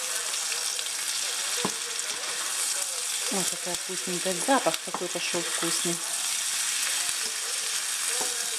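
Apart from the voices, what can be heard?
cabbage frying on high heat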